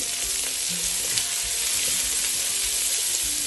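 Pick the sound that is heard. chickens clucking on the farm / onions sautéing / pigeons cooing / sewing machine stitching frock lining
onions sautéing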